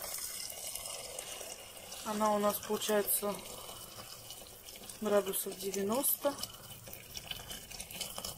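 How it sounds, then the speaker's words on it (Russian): Water poured into buckwheat in a multicooker pot, two short bursts of splashing pouring, while someone talks quietly in Russian nearby. "Добавляем воду."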